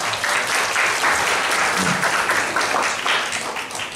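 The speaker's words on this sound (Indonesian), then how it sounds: "Tepuk tangan untuk Mas Kolik." At a school orientation session, a roomful of students gives thick, continuous applause for a presenter, a sustained crowd of overlapping claps at steady volume with no voices rising above it.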